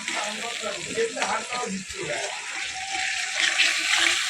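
Spices with salt and turmeric fry in a pan for vegetarian ghugni, a steady close sizzle with scraping stirs and a watery hiss building toward the end.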